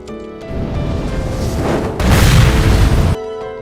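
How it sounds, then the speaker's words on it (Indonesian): A car explodes from leaking gasoline with a deep, loud boom that builds into a roaring blast, peaks sharply, then cuts off, set against a dramatic film score. "bensin yang bocor menyebabkan mobil di dekat mereka meledak"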